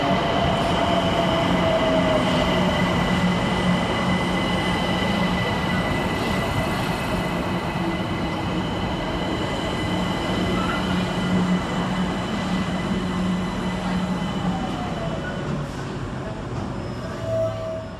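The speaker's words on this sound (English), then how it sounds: "Arriving next into the station is 378204 with the 1421 London Overground service from Highbury and Islington to Clapham" A London Overground Class 378 electric train pulls into Surrey Quays station, a steady loud rumble of wheels and motors with squealing and rail clatter, holding close for the whole stretch before easing slightly at the end.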